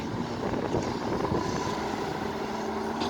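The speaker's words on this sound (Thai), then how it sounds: "เสียงพัดลมแรงมากเลย" A steady, loud whirring drone of a fan runs unbroken throughout, with a faint hum and rushing air.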